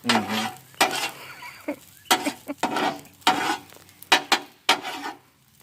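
Japanese fried rice made with jasmine rice sizzles and is stirred in a hot pan, with a run of sharp scraping, clattering strokes between bursts of frying.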